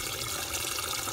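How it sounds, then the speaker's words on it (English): Water flowing back in from a small solar recirculation pump on a home brewing rig with a 5500 W 240 V heating element: a soft, steady trickling and splashing, fairly quiet and without speech. "the inflowing water"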